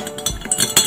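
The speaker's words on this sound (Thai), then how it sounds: "คนค่ะ" A spoon clinks against a cup or glass while stirring red lotus tea sweetened with sugar, giving a few light, close metallic taps and scrapes over about a second.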